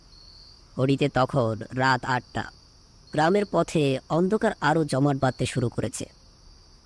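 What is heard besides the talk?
crickets chirping in roadside bushes at night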